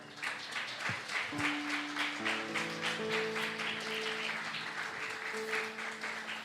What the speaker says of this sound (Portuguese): Os irmãos podem aplaudir ao Senhor.